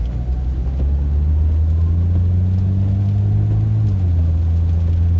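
Engine of a Jeep ZJ Grand Cherokee after an exhaust repair, pulling away in drive: a loud, steady low rumble and drone with a slight pitch shift as it moves off, close to the microphone and without talk.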